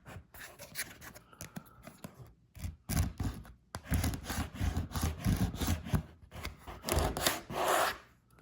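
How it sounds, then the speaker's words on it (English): A small finishing scraper scrapes dried glue off a workbench top in close, gritty strokes, with bursts of rough rasping separated by brief pauses. "So we've got some glue here, just dried up. And I've got a little scraper that I use to spread finish."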